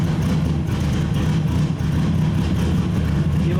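A race car being prepped for a 24 Hours of Lemons endurance event runs steadily on light throttle with its idle still unadjusted, a continuous low, loud engine drone with slight surges throughout.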